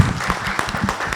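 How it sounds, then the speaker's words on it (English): An audience applauding at a conference session, a short burst of dense clapping at steady volume that fills the whole moment. "we should give a big hand of applause to the CSTEP team for that"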